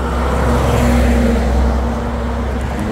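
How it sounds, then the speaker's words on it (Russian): City bus number 221 approaching a stop in Luxembourg on an overcast day, a loud, steady low engine drone with a sustained hum, no voices. "221 автобус нас будет везти в город."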